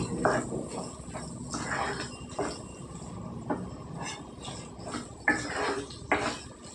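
Raw green masala stirred into a cooking pan for a prawn curry, with irregular scrapes and metallic clinks of a spoon against the pan, close and moderately quiet.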